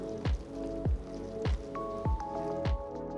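Rhythmic wet squelching as thick sabudana idli batter of rava and curd is stirred in a bowl, five soft slaps at an even pace, close and fairly quiet.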